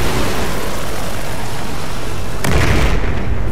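Explosion of a destroyed enemy helicopter in Battlefield 4, a loud deep boom bursting in at about two and a half seconds over a constant roaring wash of battle noise.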